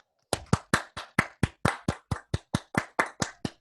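A group of people on an online seminar call clapping in a steady, even rhythm, about fifteen crisp claps, close and clear with no talking.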